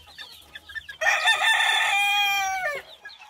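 Young chickens about 40 days old call nearby, with soft clucks and then a loud, strained crow-like call lasting nearly two seconds before it breaks off.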